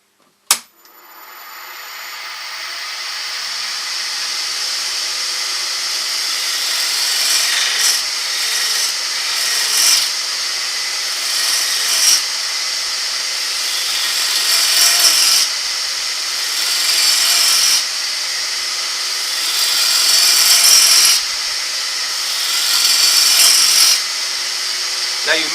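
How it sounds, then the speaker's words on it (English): A wood-turning gouge cuts a bowl on a lathe, giving a continuous bright hiss and scrape as the tool is dragged round the curve, with rhythmic surges every few seconds as each cut sweeps across the spinning wood. "I'm moving my body with the gouge to become sort of part of the tool, as it were, and dragging it round, cutting nicely as I go to create the curve"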